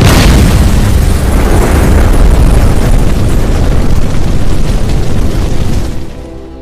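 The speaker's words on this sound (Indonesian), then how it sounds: "karena setelah ia keluar, Robert pun meledakkan tempat itu" Film explosion blowing up a bar, a huge loud boom with a sustained roaring rumble that fills several seconds before fading out abruptly at the end.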